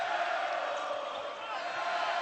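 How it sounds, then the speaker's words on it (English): A basketball arena crowd at a Montana vs UNLV game roars and cheers in a steady, sustained swell, filling the space continuously with no breaks. "Listen to this crowd getting back into it"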